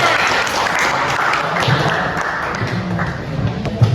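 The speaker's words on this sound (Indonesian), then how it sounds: "Tepuk tangan buat temennya." Classroom students clapping for a classmate, a moderate rattle of many hands with some low thumps underneath, continuing steadily for a few seconds.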